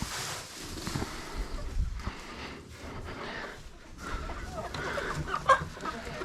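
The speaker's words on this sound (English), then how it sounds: "Little chickens are getting big." Young chickens on a ranch cluck softly and intermittently in the background, faint and low under general outdoor noise with no talking.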